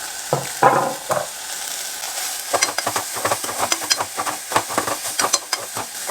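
Beans and carrot fry in a pan, sizzling softly while a spoon stirs them in bursts of scraping and clatter, close up and growing busier toward the end.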